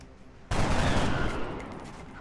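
A single loud gunshot in the tactical game XCOM: Enemy Within, played on Impossible Ironman with the Long War mod. It strikes sharply after a quiet moment, and its noisy tail decays over about a second.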